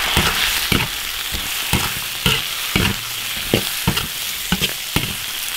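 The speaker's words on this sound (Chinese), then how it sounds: "炒香下配料，" Garlic, chili sauce and other ingredients stir-fried in an iron wok give a loud, continuous sizzle broken by sharp, regular scraping strokes of the spatula.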